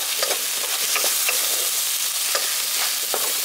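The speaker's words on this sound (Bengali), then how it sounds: "এবার মশলাগুলো দিয়ে একবার কষিয়ে নিচ্ছি।" Cumin and coriander spice powders frying in a pan for a village-style sea bass fish curry, a steady hissing sizzle punctuated by quick scraping stirs every second or so, close and fairly loud, no voices.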